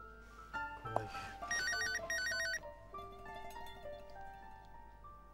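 A telephone rings in a Turkish drama scene, a bright electronic ringtone melody with warbling trills that repeats over a low room hum, with no voices.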